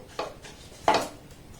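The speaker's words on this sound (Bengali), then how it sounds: "সুজি আর ময়দাটাকে একটু নাড়াচাড়া করে আমি ভেজে নেবো" A utensil scrapes through semolina and flour dry-frying in a pan, giving two brief stirring scrapes against the metal, close and quiet with no talk.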